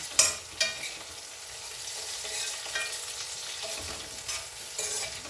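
Cumin and fenugreek powder fries for tomato chutney in a hot pan, with a steady sizzle broken by scraping, clattering stirs of a spoon.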